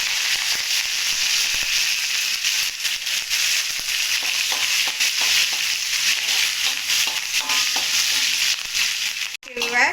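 Cinnamon, green chili and curry leaves tempering in hot oil for curd rice, a loud, steady, close sizzle with crackling throughout and a brief clatter near the end.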